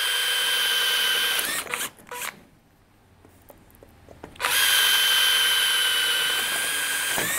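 A power drill bores a series of holes through an aftermarket motorcycle exhaust can, loud and close with a steady high whine, pausing for about two seconds mid-clip before drilling resumes.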